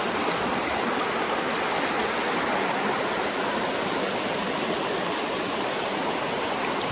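Panther Creek rushes steadily nearby, a continuous broad wash of flowing water with no pauses, filling the lunch stop setting along the trail.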